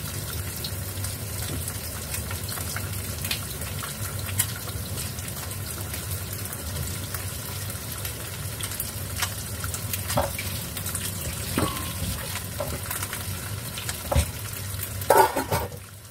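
Water pours into a pot for pork bone soup with arrowroot, a steady splashing gush running throughout with a few clinks near the end.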